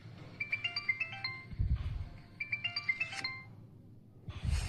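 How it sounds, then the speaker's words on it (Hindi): A mobile phone plays a melodic, chiming ringtone in two repeated phrases, ringing clearly nearby, with thumping and rustling noises mixed in and a burst of noise at the end. "तुम्हारा फोन बज रहा है।"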